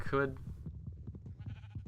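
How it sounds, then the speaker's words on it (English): A Minecraft sheep gives a short wavering bleat at the start, fairly close, followed by quieter game sounds and someone talking. "There's sheep on this island."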